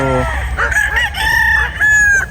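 A gamecock bull stag crows loudly and close, one drawn-out cock-a-doodle-doo broken into several rising and falling phrases, with faint barnyard clucking underneath.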